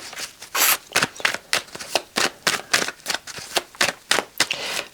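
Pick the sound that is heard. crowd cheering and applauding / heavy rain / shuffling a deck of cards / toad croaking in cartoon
shuffling a deck of cards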